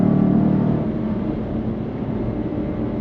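A Jaguar XK 5.0 (X150) accelerating hard on the road, a steady loud engine roar with a deep rumble, heard from inside the car without pause.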